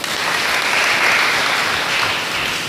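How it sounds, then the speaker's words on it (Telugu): A church congregation at a Catholic feast-day mass breaks into loud, sustained applause, a dense wash of many hands clapping together that swells slightly in the middle and stays steady throughout. "వారికి నా కృతజ్ఞతలు, చప్పట్లు."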